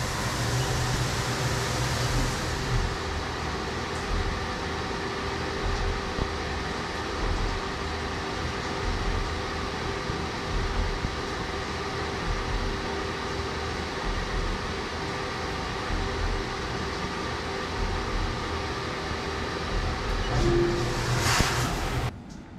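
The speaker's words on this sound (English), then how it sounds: "Now I'll drill the 4 inside holes." A CNC machine drills holes into a vacuum gauge housing, giving a steady, loud mechanical hum and whir that runs unbroken for about twenty seconds, with a brief higher burst near the end.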